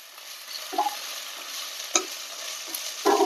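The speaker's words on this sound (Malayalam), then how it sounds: "ഇത് നന്നായി ഒന്ന് വഴറ്റിയെടുക്കണം." Sliced onion with ginger and garlic sautéing in a pan for chicken stew, a soft steady sizzle broken by several sharp spatula scrapes and knocks, close up with no speech.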